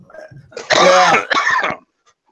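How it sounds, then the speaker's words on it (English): A man's loud, harsh, emphysema-type cough right into the microphone, two rough chesty bursts back to back, close and dry, with no speech. "when you're doing one of your emphysema coughs, can you not cough in the microphone?"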